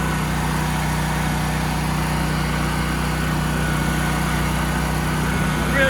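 A Toro Grandstand stand-on mower fitted with a Catchpro grass catcher cuts grass, its engine giving a loud, steady, unbroken drone with a low rumble throughout.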